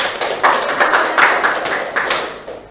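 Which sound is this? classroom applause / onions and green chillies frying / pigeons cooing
classroom applause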